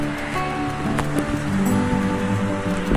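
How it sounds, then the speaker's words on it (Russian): Ocean surf breaking on a beach in Thailand, a continuous broad wash of waves at moderate loudness with no talking. "Прикольно, волны нормальные."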